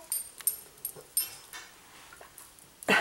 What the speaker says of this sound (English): And our little dog Lucy.